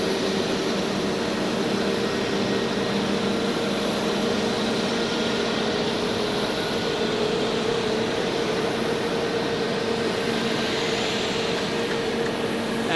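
A jet airliner lands at Zurich Airport, its steady, loud engine roar filling the whole stretch without letup and no voices over it.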